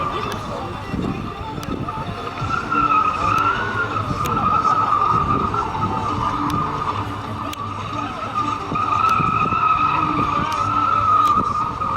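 A driving-school car in a timed competition revs its engine with long, wavering tire squeals and skids, steady and fairly close over twelve seconds, with a voice talking underneath.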